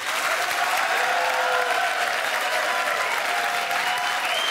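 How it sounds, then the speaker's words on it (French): A studio audience at a carnival-themed quiz show claps in sustained, dense applause, loud and close throughout, with a faint voice beneath. "vous pouvez déjà vous applaudir et merci d'être là"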